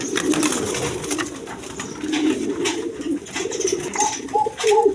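Lahori pigeons coo repeatedly in a loft, close and clear. The soft throaty calls come in overlapping bursts with a steady bubbling rhythm, and no one talks over them.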